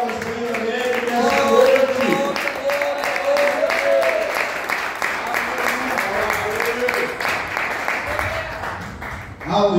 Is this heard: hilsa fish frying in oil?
no